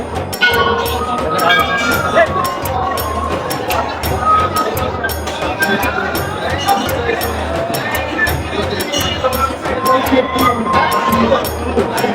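A dense crowd packs the Uchhaith Durga temple courtyard during darshan, a constant churn of chatter, shouts and babble with near voices talking over the busy hubbub.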